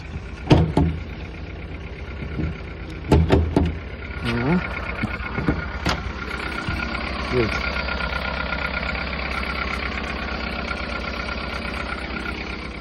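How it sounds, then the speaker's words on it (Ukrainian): A used car's engine idles steadily with no knocking from the valve lifters, a constant low hum running through the clip, broken early by a few sharp clicks and knocks and a brief voice. "Двигун працює дуже гарно."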